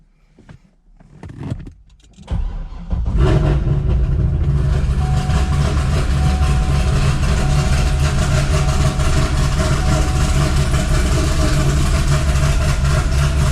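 A Corvette Z06 is heard after a few seconds of shuffling and key clicks, cranking and catching, then holding a loud, steady idle close by.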